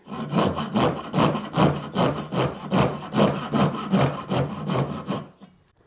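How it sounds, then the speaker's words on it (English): A Lie-Nielsen dovetail saw cuts wood by hand at a workbench, about a dozen even, rhythmic push strokes, close and clear, that stop at the end. "bring out a nice Lee Nelson dovetail saw"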